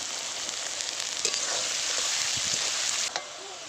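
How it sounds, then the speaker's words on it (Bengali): Chopped onions fry in a pan with a steady, close sizzle, broken by a few soft scrapes of a stirring spoon, while aromatics are browned for Gondhoraj chicken. "পেঁয়াজটা দেখুন কত সুন্দর ভেজে নিয়েছি লাল লাল করে"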